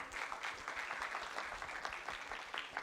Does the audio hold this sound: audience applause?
yes